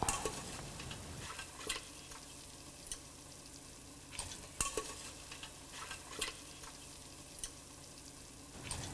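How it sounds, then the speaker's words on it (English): Pieces of cooked mutton are stirred into a soft tomato curry masala in a pan, with a steady faint sizzle and scattered scraping stir strokes and utensil taps at a close, quiet level. "Once the tomatoes are nice and soft, let's add the cooked mutton pieces"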